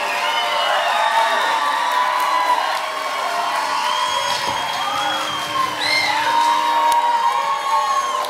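Studio audience on a Brazilian late-night talk show booing and jeering, a sustained loud crowd roar with whoops and shouted voices rising and falling, a brief spoken word in the mix.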